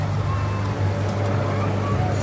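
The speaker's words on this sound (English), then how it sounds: "Love the Farmall tractor that's pulling it." A Farmall tractor pulls a float in the 2021 Clinton Christmas Parade, its engine a steady, low, loud drone throughout. Faint outdoor crowd noise sits beneath it.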